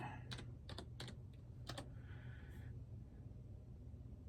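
Typing on a computer keyboard, entering a search: a few quick bursts of key clicks in the first two seconds, close and fairly soft, over a steady low room hum, then quiet.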